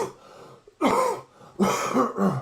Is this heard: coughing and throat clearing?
yes